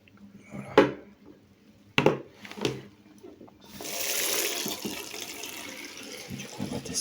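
Water rushes steadily down a small drain after a few clunks and knocks from handling, making a continuous mid-level gurgling hiss that carries on to the end.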